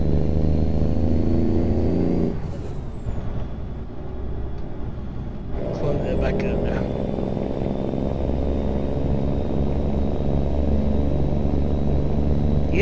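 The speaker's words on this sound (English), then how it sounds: "The sound of that N14. I'm loving that." Simulated Cummins N14 diesel truck engine in American Truck Simulator, a steady loud drone with layered low harmonics, dipping briefly as the load changes before settling back into a constant hum, with no talk.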